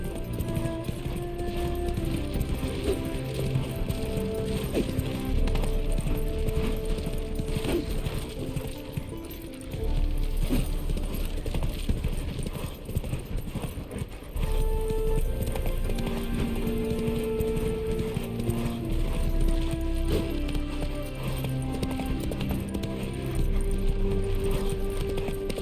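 Roach, the horse in The Witcher 3: Wild Hunt, gallops in a steady rapid clip-clop of hooves under a continuous background of game music and ambience, with only a brief lull partway through.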